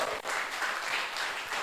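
Audience applause in a talk or meeting hall, a brief, fairly faint patter of clapping that stays even for under two seconds with no voices over it.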